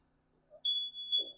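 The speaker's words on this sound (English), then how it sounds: "that's my smoke alarm goes off" A smoke alarm emits a single loud, piercing electronic beep that starts abruptly and holds steady, close by, in a kitchen during cooking.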